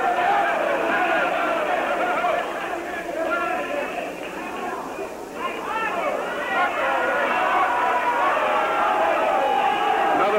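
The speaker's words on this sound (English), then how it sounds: "Another big turnaway crowd in our stadium here tonight" Big turnaway arena crowd at a 1960s wrestling match, a steady dense roar of chatter and cheering that fills the whole stretch, dipping briefly midway before swelling again.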